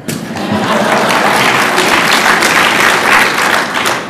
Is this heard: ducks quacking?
no